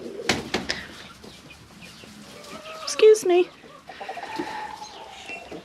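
Chickens clucking close by in a coop in short bursts, with a few louder squawks and rustling movement, under a brief spoken remark.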